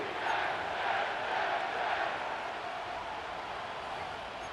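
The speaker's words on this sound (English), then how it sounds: "The crowd is definitely ready." A large stadium crowd at MetLife Stadium in the video game Madden NFL 25 roars in a steady, broad wash of cheering that swells slightly and then holds.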